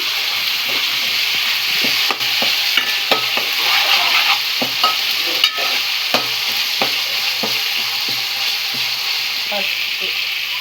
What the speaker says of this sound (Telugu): అల్లం పేస్ట్ అయితే ఫ్రై అయిపోయింది